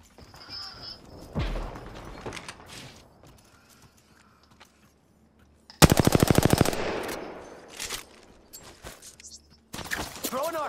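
Apex Legends gunfire: a sudden, loud, rapid machine-gun burst of evenly spaced shots, then a second short burst near the end. Scattered game sounds fill the gaps, and a voice speaks between the bursts.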